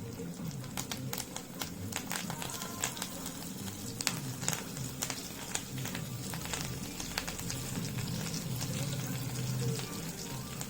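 Fish pieces fry in a pan with a continuous soft sizzle and scattered crackling pops, close and fairly quiet, with no voices.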